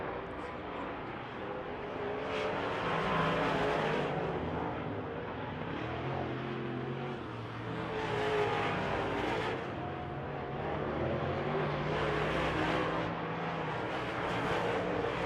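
Race car, the Flying Ford, running down a straightaway on a track, a sustained engine drone heard from a distance that swells and fades as it passes, with no talk over it.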